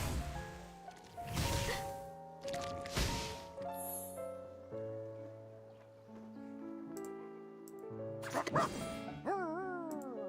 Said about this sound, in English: The puppy agreed with your decision.